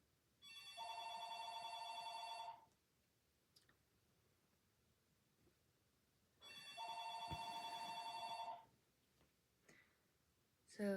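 A telephone rings indoors in two separate bursts, each a bright electronic trill lasting about two seconds, separated by a quiet gap with faint clicks and room noise.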